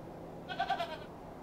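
A goat bleats in the video game Hobb's Barrow, a short wavering cry of two or three quick pulses heard alone over a faint steady background.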